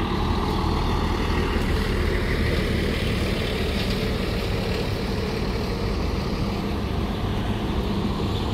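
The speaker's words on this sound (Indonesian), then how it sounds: "bus-bus terus berdatangan ya ke KIPP IKN" Buses arriving in a long convoy at a naval event site before a fun run, a continuous heavy rumble of diesel engines rolling past close by, steady throughout with no voices.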